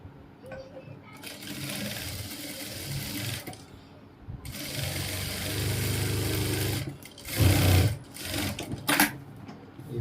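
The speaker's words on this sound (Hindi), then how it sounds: "इसी तरह से हम इसको भी सिल लेंगे।" A sewing machine stitches trousers in long continuous runs, whirring steadily with brief stops and restarts, close and loud, with a few clunks near the end and no talking.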